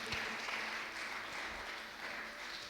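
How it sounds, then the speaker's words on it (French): A church congregation clapping for Jesus at a bilingual service, steady sustained applause from many hands filling the room without a break. "Can you give a hand to Jesus? Acclamons pour Jésus."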